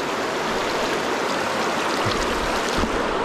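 The Kallar river near Ponmudi rushes in a steady, dense stream close by, a continuous loud wash of flowing water with no break and no voices.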